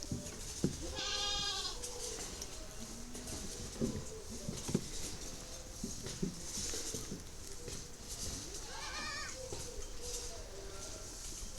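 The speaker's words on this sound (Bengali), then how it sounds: "ফার্মে বাকি আদার্স যেসব ছাগল আছে আপনাদের দেখাচ্ছি।" Goats on a farm bleat twice, once early and once near the end, over a busy backdrop of rustling and shuffling as the animals feed on straw; the calls sound moderately close.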